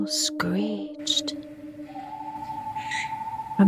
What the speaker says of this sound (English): an owl screeched.